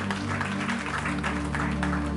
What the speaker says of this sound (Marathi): आंटींसाठी जरा जोरदार टाळ्या